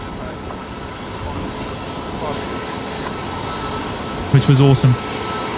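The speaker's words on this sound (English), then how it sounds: "And now to watch the aircraft go out for a long-haul flight." Qantas long-haul aircraft taxiing out at Brisbane Airport, a steady distant jet engine rumble running underneath a voice, with a brief louder tonal burst near the end.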